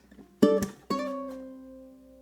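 A ukulele plays the next phrase of a song, a quick plucked note, a sharp slap, then a sliding chord left to ring and fade, solo and close.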